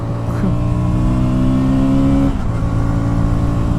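A KTM Duke 160 motorcycle runs at full throttle, its engine droning loud and steady with rising harmonic tones, then a brief dip as the note shifts mid-ride.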